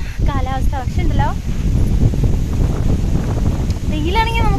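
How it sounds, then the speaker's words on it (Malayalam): Gusty outdoor wind with light drizzle in the hills of Muthikulam, Attappady, a constant loud rushing buffet on the microphone while people talk over it at the start and end. "നല്ല കാറ്റും നല്ല ചാറ്റൽ മഴ അടിക്കുന്നുണ്ട് കേട്ടോ."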